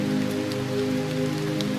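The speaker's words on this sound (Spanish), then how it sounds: "ya la lluvia es muy poca" Light rain falling steadily on a surface, a dense, even patter with no breaks, close and moderately loud, heard alone without any voices.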